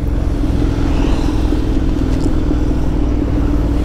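A Honda X-ADV750 motorcycle with a DCT gearbox runs close by as a loud, steady engine rumble and hum, with no clear breaks that would mark gear shifts.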